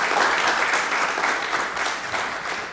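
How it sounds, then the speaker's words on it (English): A graduation ceremony audience at the Civilian Conservation Corps breaks into a steady, dense round of applause that holds throughout, many hands clapping together at close range with no one talking. "Let's have another round of applause for her."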